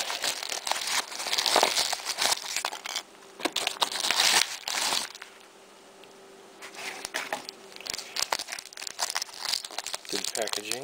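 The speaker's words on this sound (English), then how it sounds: "Maybe too good of packaging, I can't get in." Crinkly mail packaging is crumpled and torn open in bursts of loud rustling and ripping, pausing briefly midway before more crinkling and tearing resume, with faint talk.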